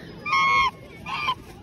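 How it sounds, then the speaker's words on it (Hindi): Two honks sound from a duck, one after the other with a short pause between them, nasal and fairly close. "इतनी प्यारी बत्तख है ना"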